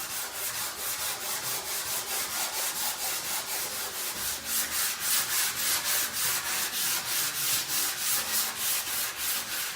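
Hand sanding of a wooden furniture hutch during refinishing: steady, rhythmic back-and-forth rasping strokes, close and even, running continuously with no talking.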